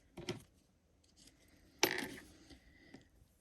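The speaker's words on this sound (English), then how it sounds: "So cut off our yarn." Scissors snip through crochet yarn at the end of a simple heart, two or three short dry clicks, the sharpest one in the middle, close by in a quiet room.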